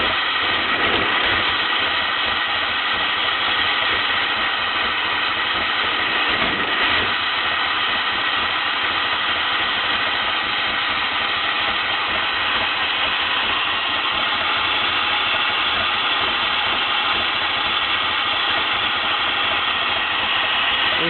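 A DMC car engine runs close and loud as the throttle is pressed, giving a dense, continuous mechanical drone with little change in level and no voices.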